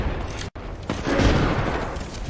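Grenade blasts in the video game Apex Legends, a sharp cut followed by a heavy booming explosion that swells and lingers, loud and close.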